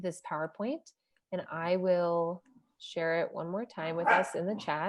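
Several dogs bark and yip in short bursts close by, partly overlapping and sometimes under a person lecturing during an online presentation.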